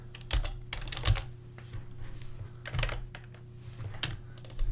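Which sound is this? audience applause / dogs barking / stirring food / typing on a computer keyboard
typing on a computer keyboard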